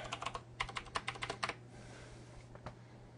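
A quick burst of keystrokes on a computer keyboard during a Linux Mint installation, close and crisp, followed by a pause and one last key press over a low electrical hum, with no speech.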